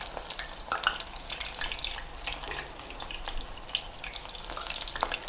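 Beancurd skin rolls frying in a pan of hot oil, giving a steady close crackling sizzle with occasional sharper pops and light stirring throughout.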